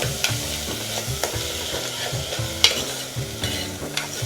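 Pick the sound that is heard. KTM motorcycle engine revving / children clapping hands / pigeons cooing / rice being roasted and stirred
rice being roasted and stirred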